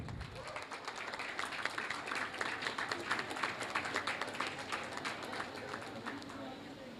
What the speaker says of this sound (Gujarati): તાળી પાડતા રહેજો ભાઈ.